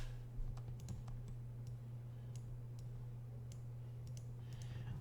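Computer keyboard typing in a quiet room, scattered light clicks and short bursts of keystrokes over a steady low electrical hum, fairly soft and close.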